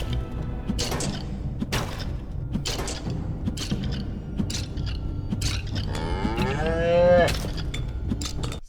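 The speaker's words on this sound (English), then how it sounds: "Is that a fucking cow?" A cow moos in the Halls of Torment roguelike video game, a drawn-out bellow that rises and falls near the end of the clip. Dense game combat thuds and clatter play throughout.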